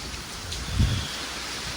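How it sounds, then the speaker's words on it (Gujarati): Steady heavy rain with strong wind hissing throughout, with a low rumble swelling briefly in the middle. "વરસાદ છે મિત્રો અને જુઓ"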